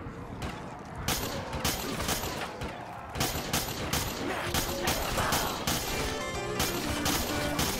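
Death Machine gun from Call of Duty Zombies fired in quick taps, a dense run of loud, sharp mechanical bursts with brief gaps, heard alone.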